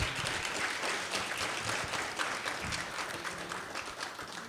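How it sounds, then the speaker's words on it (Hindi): A poetry gathering audience in Shimla applauds, a dense, steady clatter of many hands clapping that carries on for several seconds and eases slightly toward the end. "जी, ज़ोरदार तालियां।"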